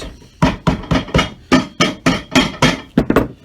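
A cobbler's hammer taps leather shoe parts down into the sole grooves of an Allen Edmonds shoe, about a dozen crisp, evenly spaced knocks close up, ending in a quicker cluster of taps.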